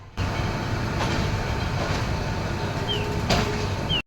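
A train at Kulaura railway station in Bangladesh, a steady close rumble of rolling rail cars with faint squeals and a brief clunk near the end.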